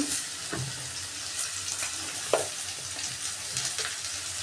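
Chopped capsicum, tomato and spices with salt and turmeric sizzling in a pan, a soft steady frying hiss with scattered stirring scrapes and clinks, close and fairly quiet.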